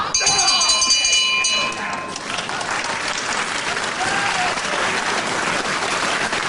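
A boxing ring bell clangs with bright ringing tones at the end of a round in a third-round bout, quickly buried under loud, sustained crowd applause and cheering.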